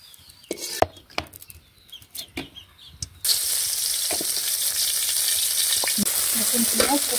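Fish fries in a small amount of oil: a few quiet clatters and taps at first, then a sudden, continuous close sizzle that holds steady to the end.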